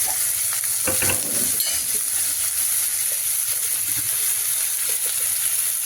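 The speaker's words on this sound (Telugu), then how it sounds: "ఆనియన్ ఫ్రై అయిపోతుంది" Onions frying in a pan while being cooked for an egg roll, a dense continuous sizzle and hiss with a few spoon scrapes early on, steady and close.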